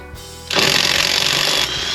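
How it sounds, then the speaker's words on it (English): A Kobalt impact driver kicks in with a loud, rapid, buzzing hammering rattle that runs steadily for over a second before easing off, close and alone. "You can just hear the hammer hitting on that so much faster."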